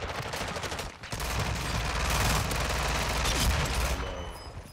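Dense, loud bursts of automatic gunfire from the video game Call of Duty Warzone, rapid overlapping shots coming from several directions nearly continuously.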